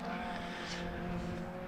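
Hot hatch race cars cross the finish line at Donington Park during a championship race, a steady, loud engine roar holding throughout with a brief passing swell midway.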